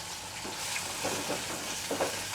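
Spice powders, including turmeric and coriander-cumin powder, fry in oil in a pan while being stirred, a continuous close sizzle with light scraping strokes of a spoon.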